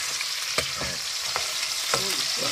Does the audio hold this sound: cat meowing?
no